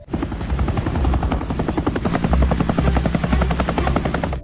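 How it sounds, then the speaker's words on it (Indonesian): A helicopter's rotor thumps in a loud, steady rapid pulse with engine whine, close and continuous throughout. "Jack dan Kate mendengar suara helikopter."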